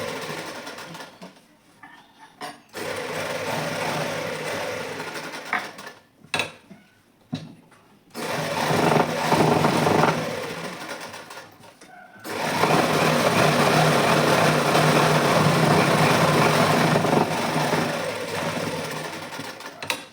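A sewing machine stitches a suit in bursts of loud, rapid running, broken by short pauses, with a long continuous run at the end.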